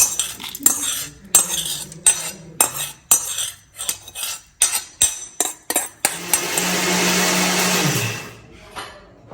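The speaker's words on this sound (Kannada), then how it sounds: "ಈಗ ಕುಟ್ಕೊಂಡು ನುಣ್ಣಗೆ ರುಬ್ಕೊಂಡು ನೈಸಾಗಿ ರುಬ್ಕೊಳ್ಳಿ" A kitchen mixer grinder grinds batter with salt, tamarind and jaggery. Irregular metallic clinks and taps come first, then the motor runs in a steady, loud whirring grind for about two seconds before stopping.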